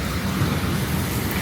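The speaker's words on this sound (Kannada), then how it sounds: "ಒಳ್ಳೆ ಮಳೆ, ಆದ್ರೆ ಈ ಥರ ಮಳೆ ಬಂದರೆ ಬೇಗ ತಣ್ಣಗೆ ಆಗ್ಬಿಡುತ್ತೆ" Heavy rain falling in Bengaluru as a steady, loud broadband wash, close and continuous with no talk over it.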